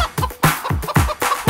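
A chicken clucks loudly and close in a quick, regular series of about six sharp clucks.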